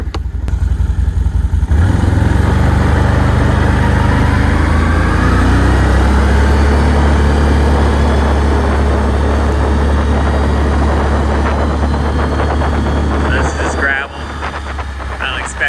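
ATV quad engine revving up and riding down a driveway, a loud, close, steady motor drone held for most of the stretch with rattling over rough ground and a rider talking over it.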